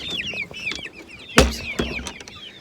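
Baby chicks in a homestead brooder peep in rapid high overlapping chirps, with one loud thump and a few bumps partway through, no speech.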